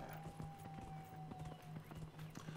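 In Dragon Age: Inquisition, a horse gallops with steady rhythmic hoofbeats, fairly close, with a faint tonal hum running underneath.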